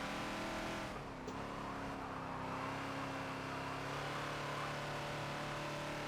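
A Ford Falcon XB race car in Forza, lapping Watkins Glen Short, its engine droning steady and loud throughout, pitch dipping briefly then holding as it drives through a turn, with no talk over it.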